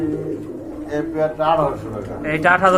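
A male and a female domestic pigeon for sale coo close by, giving repeated soft, throaty coos in short bursts.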